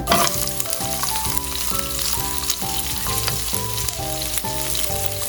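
Chopped onion frying in hot oil with fennel seeds, a loud, continuous close-up sizzle and crackle with a steady rhythmic pattern of bubbling, no voices.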